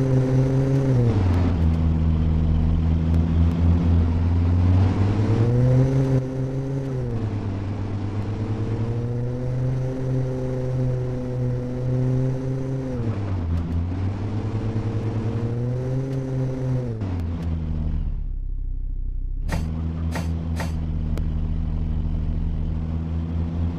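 A 4x4 SUV taxi is driven in a mobile driving game, with a continuous engine drone that rises and falls with revving and shifting, loud and steady, and a few short sharp clicks near the end.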